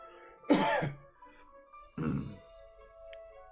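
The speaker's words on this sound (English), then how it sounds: "like a cough from the other room" Two separate coughs or throat-clearings about a second and a half apart, muffled and coming from another room, with quiet between them.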